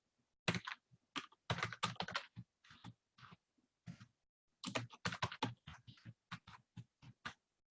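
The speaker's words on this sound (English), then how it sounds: "I can either come in here and manually type them in" Typing on a computer keyboard in bursts of quick, close keystrokes with short pauses between runs, no voices present.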